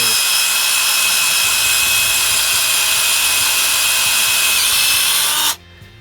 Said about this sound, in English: so what I'm doing here is trying to drill this thing out